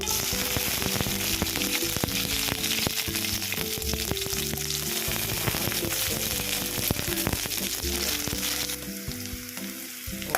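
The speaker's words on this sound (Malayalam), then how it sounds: "അവിടെ കടുക് പൊട്ടി വരുന്നുണ്ട് കേട്ടോ." Mustard seeds popping and sizzling in hot oil for a Kerala koorka stir-fry, a dense, loud crackle of rapid pops with occasional stirring clatter, continuous and close.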